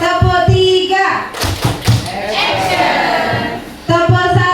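A seated group of adults in a classroom-style session clap together in a counted pattern, sharp bursts of claps separated by short pauses, mixed with voices chanting the count aloud.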